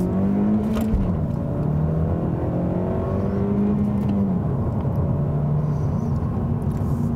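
A 2017 Honda Civic Si engine in Sport mode hums steadily while driving, a smooth, fairly quiet drone with gentle rises and falls in pitch as it revs, heard from inside the cabin without talk.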